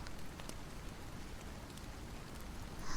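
Steady rain falls in a soft, even wash with scattered drop ticks, close by and continuous with no voices, in a calm sleep-relaxation setting beside a crackling fire.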